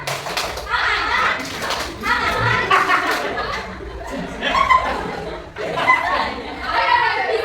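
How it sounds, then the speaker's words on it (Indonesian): A class of children clap through the tepuk angsa routine in a classroom, scattered rhythmic claps under lively chatter, chuckles and laughter, with voices talking across most of the stretch. "Baiklah teman-teman, ikuti saya untuk tepuk angsa."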